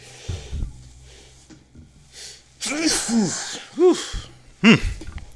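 Close sniffing and snorting breaths build up, followed by a couple of sharp, voiced sneezes, the last one loud and abrupt.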